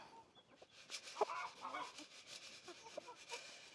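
Chickens cluck and squawk faintly in short, irregular bursts around a farm barrel of scratch feed, quiet and somewhat distant.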